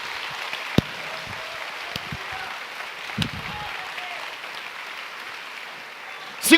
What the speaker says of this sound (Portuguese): Dá um aplauso a Deus.